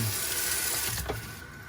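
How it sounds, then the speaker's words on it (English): Tap water runs steadily from a kitchen faucet feeding a RODI filtration unit, a continuous close hiss and splash with no voices. "Connects right to your faucet. Turn the water on."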